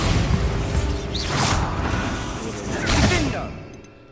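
Levioso and Bombarda spells cast in Hogwarts Legacy make whooshing magical bursts and a booming impact amid dense game effects and mechanical creaks, with a voice speaking over them.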